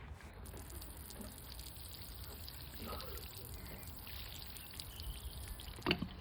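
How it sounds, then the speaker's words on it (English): Cleaning solution poured onto a badly stained patio tile outdoors, a soft steady liquid trickle running quietly for several seconds with a faint splash near the end. "After pouring it on, we brush it in with a stiff brush."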